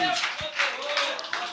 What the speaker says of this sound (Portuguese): joga a mão, aplaude a Deus